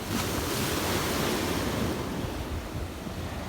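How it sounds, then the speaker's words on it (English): Sea waves wash along the Mediterranean coast in a continuous surging roar mixed with wind buffeting the microphone, loud and steady, easing slightly toward the end, with no voices. "View of the sea today for anyone interested."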